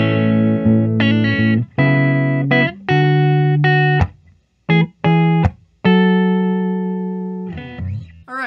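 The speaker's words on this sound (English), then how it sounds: "We just heard the neck pickup." Clean electric guitar notes and chords from the neck pickup of a 1976 Gibson L5-S ring out one after another, sustaining with pauses between phrases, warm and full, played alone without talk.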